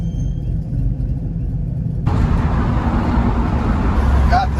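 A van engine running as it warms up before driving, a steady low rumble that picks up and grows louder partway through, close to the microphone and continuous throughout.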